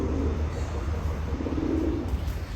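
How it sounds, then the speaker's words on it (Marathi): A wild pigeon coos near a house in a few soft, low, rounded calls over a constant background hum, with no voices. "यो बघा एक रानटी कबूतर आले"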